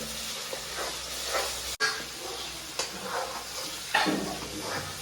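Spinach drops into a hot pan with a little oil for palak paneer, giving a steady, soft hiss and sizzle with faint stirring scrapes and no voices.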